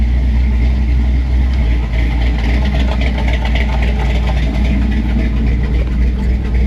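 Car engine idling steadily while warming up during auto repair work, a loud, close, continuous low rumble with no talk.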